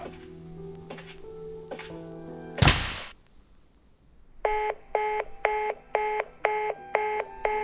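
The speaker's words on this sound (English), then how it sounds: "Looks like the phone got disconnected." In the Reverse 1999 video game, a phone line clicks, a sharp thunk hangs up the receiver, and a steady run of repeating tones follows.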